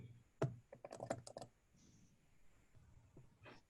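A short burst of close computer keyboard typing while logging in with an email and password, with quick clustered key clicks up front and then quiet room tone with a faint final tap.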